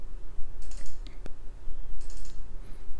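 Several sharp computer mouse clicks come in quick pairs and single taps, close and distinct against a faint room background.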